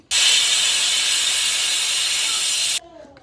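A loud, steady pressure cooker whistle, cooking mushroom curry on high flame, hisses continuously for nearly three seconds, then cuts off abruptly, leaving faint kitchen noise.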